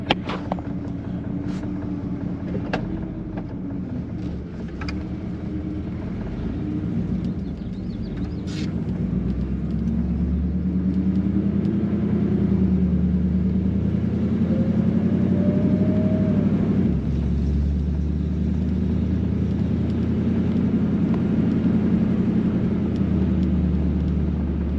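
A car with a 4-speed Hydra-Matic automatic transmission drives along, its engine a steady low rumble from inside the cabin that rises in pitch as it accelerates, with a brief whine and occasional clicks and knocks.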